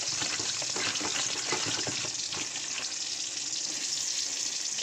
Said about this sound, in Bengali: তেল অলরেডি গরম হয়ে গেছে, পটলগুলো ছেড়ে দেব